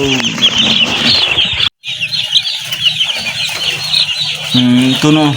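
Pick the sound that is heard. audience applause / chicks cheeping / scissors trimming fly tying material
chicks cheeping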